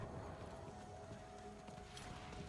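Horse hooves clip-clopping steadily while riding a mount in Diablo IV, a continuous mid-level trotting rhythm over a dense game ambience of music and background noise.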